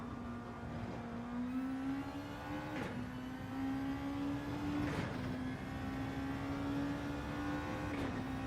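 Touring car engine in a racing video game at Mount Panorama, Bathurst, held at a steady high drone with gear shifts about every two seconds as the revs drop and climb again, loud and constant with no voices.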